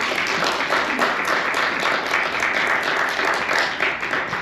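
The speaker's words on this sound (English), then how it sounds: "Memory, can you give her a round of applause?" Audience at a business luncheon giving a round of applause, loud dense clapping sustained evenly throughout without talk.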